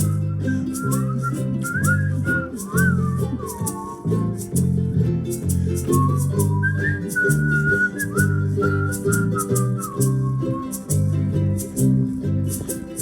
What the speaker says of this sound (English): Whistle again